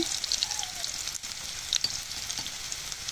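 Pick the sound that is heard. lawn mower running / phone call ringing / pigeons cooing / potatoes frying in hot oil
potatoes frying in hot oil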